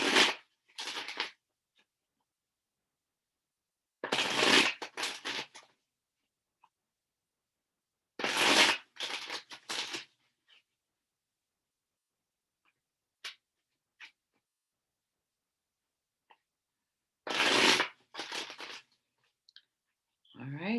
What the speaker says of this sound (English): I saw how much I shuffled that deck too